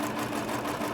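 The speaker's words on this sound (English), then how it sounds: "I love my little sewing machine" A small home sewing machine runs steadily at speed, a continuous close buzzing whir with no talk.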